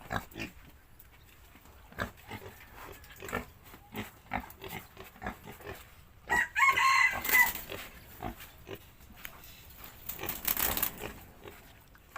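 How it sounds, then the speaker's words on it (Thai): An old male rooster crows on a rural homestead in Thailand, one loud extended crow rising from sparse background clatter, followed by fainter farmyard noises. "อันนี้ไก่แก่ครับพี่น้อง ตัวผูครับ"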